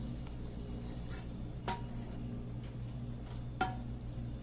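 Chicken and chopped tomato being stirred in a pan, soft scraping of the spoon with faint sizzling underneath and two sharper clinks against the pan, steady and close with no voices.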